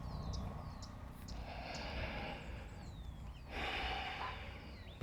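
During a wide-hipped yoga squat with palms pressed together, slow, deep breaths are drawn in and pushed out through the nose, close and audible, with a stronger exhale near the end and faint birdsong behind.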